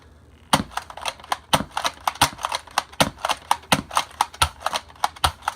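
A Nerf Accustrike Alphahawk blaster fires foam darts in a quick run of sharp, snappy clacks, about a dozen close, loud pops and clicks spaced unevenly across a few seconds with no talking.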